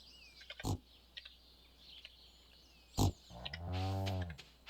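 A pig oinks in the Stardew Valley farm video game, with a few short sharp snorts early on, then a longer, louder harmonic grunt near the end over a quiet game background.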